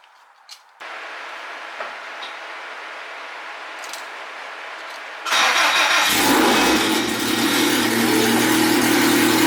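An electric fuel pump whirs, then a race car engine cranks and fires into a loud, rough, throaty idle that keeps running close by.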